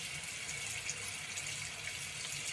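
Water from a tap runs steadily in a bathroom sink during face washing, a soft continuous hiss with no break and no voices.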